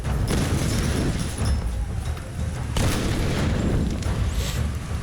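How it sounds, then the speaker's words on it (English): Loud, continuous explosion and blast noise from the video game Tomb Raider (2013), with a heavy rumbling boom rising again near the three-second mark and no speech. "Create random explosion for no reason."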